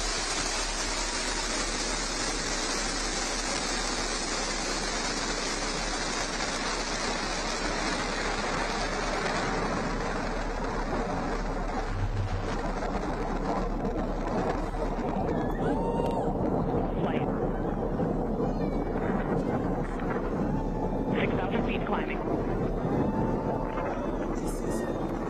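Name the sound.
Blue Origin New Shepard rocket liftoff roar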